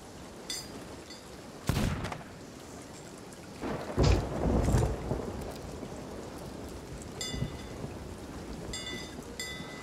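A thunderstorm at sea in a pirate video game: steady rain hisses throughout while several sharp thunder cracks and a longer rolling rumble break through, close and loud, with no talking.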